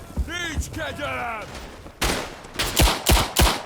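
Machine gun fire in the World War I video game Tannenberg: someone speaks briefly, then a loud, sharp burst of about five close shots rings out in quick succession.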